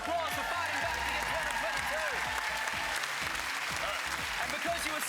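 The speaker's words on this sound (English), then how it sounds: "Give a round of applause for fighting back against" A game show studio audience on Family Feud applauds, a thick steady roar of clapping with cheering and voices mixed in throughout.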